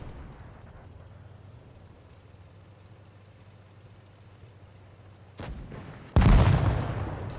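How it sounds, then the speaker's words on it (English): Tank cannon fire from an IS-7 heavy in World of Tanks: a low rumbling hum runs steadily, then a sharp burst and a second louder, heavy blast near the end that rolls on with booming low energy. "Did that IS-7 just shoot here?"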